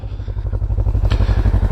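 A 2022 Segway Fugleman UTV engine runs close by, with a loud low rumble and a rapid, even pulsing throb that holds steady throughout.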